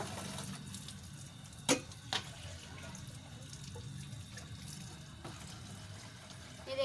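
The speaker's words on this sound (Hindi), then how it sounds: "ये देखें, थोड़ा सा मैंने पानी और डाला है।" Water poured from a glass into a cooking pot of aloo keema on the stove, a steady soft splashing stream under a continuous low hum, broken by a couple of sharp clinks.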